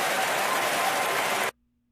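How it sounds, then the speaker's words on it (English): A brief burst of audience clapping rings out densely for about a second and a half, then cuts off abruptly into silence. "that was a weird little clapping thing"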